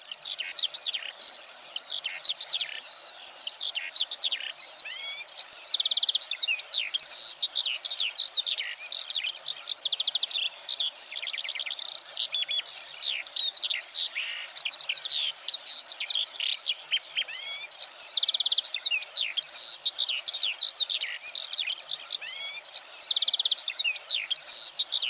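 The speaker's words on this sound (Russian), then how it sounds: "Жаворонок." A Eurasian skylark sings a long, unbroken stream of rapid high trills and chirps, bright and continuous for the whole stretch, with no other sounds intruding.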